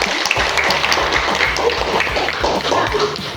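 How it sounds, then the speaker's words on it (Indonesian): Applause from a class of students: dense, steady hand-clapping with sharp taps, fairly close and sustained for a few seconds, with a brief voice over it. "itu berdua tepuk tangan semua"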